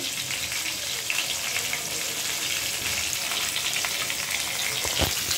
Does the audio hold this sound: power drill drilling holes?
no